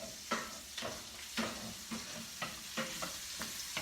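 Onions frying in butter in a pot, a soft steady sizzle broken by about eight sharp scrapes and stirs at a regular rhythm, close and fairly quiet.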